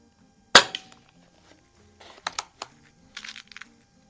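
A Crosman 3622 air rifle firing RWS pellets gives one sharp close pop, followed by clicks and clatter of handling or cocking in short bursts, with no talking.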